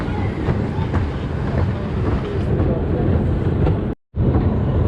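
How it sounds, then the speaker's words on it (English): A small amusement park train at Blackpool Pleasure Beach rumbles steadily along its track with a continuous clatter and wind buffeting the microphone, briefly cutting out near the end. "slowing it down a bit on the train now"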